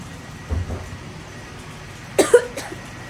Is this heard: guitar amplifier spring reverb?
no